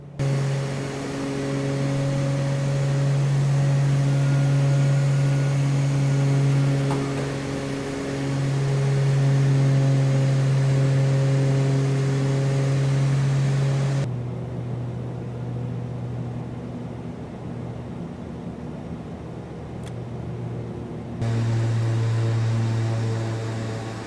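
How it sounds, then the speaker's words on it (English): Black Square Starship twin-turboprop in Microsoft Flight Simulator on landing roll-out, with a loud, steady engine drone under reverse thrust and braking that shifts and drops in pitch partway, then swells again near the end. "we'll leave you with the landing and roll out using reverse thrust and braking"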